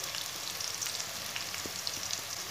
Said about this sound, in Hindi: प्याज और लहसुन को ज़्यादा भूनना नहीं तो कड़वा हो जाएगा